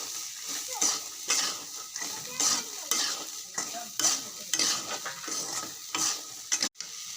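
Corn roasting in oil with salt and chili powder in a pan, with steady sizzling broken by repeated rhythmic scraping strokes as it is stirred, close and clear.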